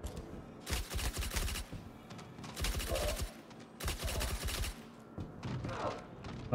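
Silenced gunfire in Star Citizen during a bunker mission: rapid bursts of muffled, thumping shots in several clusters separated by short gaps, fairly close and punchy.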